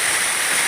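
Steady broadband roar of the waterfall near Puntodoro village, a continuous rushing of falling water close by with no voices.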